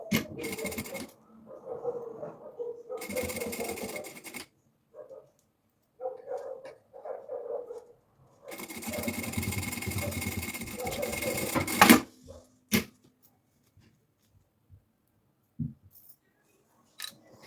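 A sewing machine stitches a seam on a preschool backpack pocket in several bursts of fast, whirring runs, the longest about three seconds, separated by quiet gaps with small handling clicks and fabric shuffling, close and clear.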